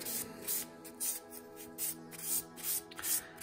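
Hand-sanding a blaster prop pistol with 400 grit sandpaper makes steady back-and-forth rubbing strokes, about a dozen rhythmic swipes at close range with no voices.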